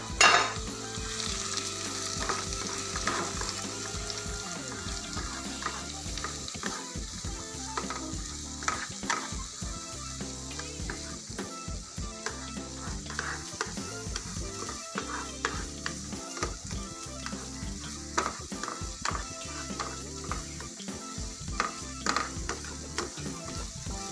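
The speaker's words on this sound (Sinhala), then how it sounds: "මේ විදිහට අපේ හිඟුරු, සුදු ලුණු, රම්පේ, අමිරිස්, කරපිංචා ටික මේ විදිහට අපි එකතු කරගෙන මේ ටික මෙහෙම ටිකක් ටෙම්පරාදු වෙන්න" Ginger, garlic, rampe (pandan leaf), chili and curry leaves tempering in hot oil in a pan, a steady loud sizzle and crackle with frequent spoon stirs and scrapes against the pan.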